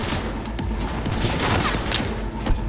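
Grenade going off in the video game Cyberpunk, a dense rumbling burst of blast and debris noise lasting a couple of seconds, loud and close.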